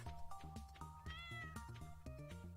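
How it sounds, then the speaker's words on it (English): A cat meows repeatedly in the video game Stardew Valley, several clear, tonal game-sound meows in close succession alongside background music, with no talking. "Oh yeah, my cat."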